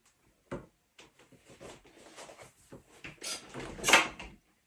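A door with a red latch on a profiling bed is swung shut, giving a series of light knocks, clicks and rattles that build to a sharper latching clack near the end, close by and fairly quiet.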